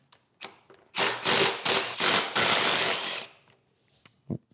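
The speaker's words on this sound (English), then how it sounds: "let's remove our 4 riser bolts. These are 1/4 inch hex drive, Allen key" A 1/4 inch hex drive tool loosens the handlebar riser bolts on a 2024-2026 Harley-Davidson Street Glide, with several bursts of rapid mechanical ratcheting up close followed by a few light metallic clicks and taps.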